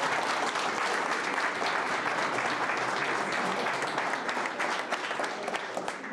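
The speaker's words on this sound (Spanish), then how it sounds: "Pido un fuerte aplauso." Loud, dense applause from a large audience at a university class reunion ceremony marking a silver anniversary, sustained clapping that holds steady throughout with no pauses.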